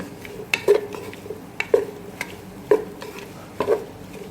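Sliced onions stirred in a pan with a spoon, four regular scraping, clinking strokes about a second apart over a faint low sizzle, close and with no voices.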